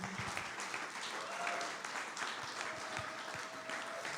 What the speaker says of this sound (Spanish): Vamos a dar un aplauso al Señor, nuestro Dios todopoderoso.